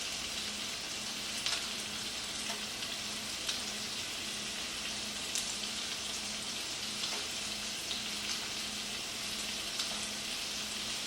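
Brussels sprouts sizzle and fry steadily in a hot pan, a continuous soft crackle with occasional small pops and no talking.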